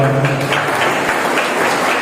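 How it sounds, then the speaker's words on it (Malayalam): Audience applause rises at an election ceremony, a dense, steady patter of many hands clapping close by, sustained throughout. "ഒരു നല്ലൊരു കയ്യടി കൊടുക്കാം"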